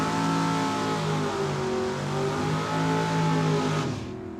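A dragster on a drag racing run at Tucson Dragway, a loud, sustained engine roar with shifting harmonic tones that drops away sharply near the end as the car shuts off.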